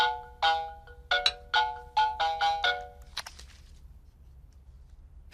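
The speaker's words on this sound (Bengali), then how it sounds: "ফোনটা ধরবো স্যার?" A phone ringtone repeats in about eight short melodic bursts at an even pace, moderately loud, then stops with faint clatter following in a quiet indoor room.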